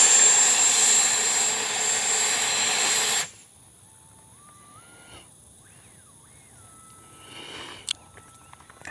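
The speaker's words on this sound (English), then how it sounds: "Reverse thrust." A Freewing Ares 3D 90mm electric ducted-fan RC jet on 8S power blasts a loud, steady roar of reverse thrust for about three seconds, then cuts off abruptly, leaving faint whistling tones and quiet outdoor background.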